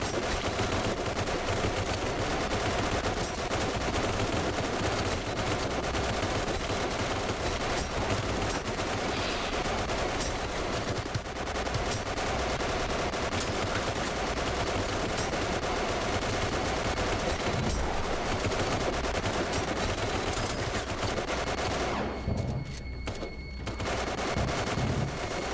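Rapid sustained .50 cal machine gun fire in a video game, dense continuous bursts with constant loud gunfire throughout and a brief lull near the end.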